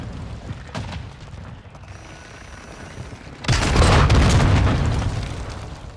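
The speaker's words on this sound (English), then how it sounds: "Cluster mine deployed!" Cluster mine blasts in Call of Duty: Modern Warfare II on the Al Bagra Fortress map: a loud, close burst of overlapping booms erupts midway and rumbles on, following a quieter stretch of distant combat noise.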